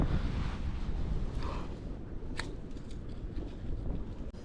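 Wind blowing steadily during a snow storm on a Texas fishing outing, a continuous low rushing buffet across the microphone with no voices.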